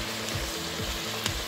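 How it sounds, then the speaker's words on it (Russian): Quiet, steady sizzling and crackling of carrots frying in a pot over raised heat for plov, with a few soft knocks and scrapes. "Добавили огня, жарим морковку."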